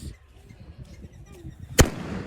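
A single sharp firecracker bang, loud and close, cutting through quiet background chatter and followed by a brief rumbling tail.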